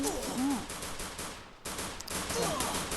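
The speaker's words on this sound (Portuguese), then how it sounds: "tá saindo barulho, velho, da minha arma" Rapid video game gunfire bursts from the player's own weapon, loud and close, with a brief gap midway and a second burst following.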